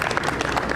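Audience applause at a Holi celebration, a dense burst of many hands clapping together, steady and fairly loud for a brief moment.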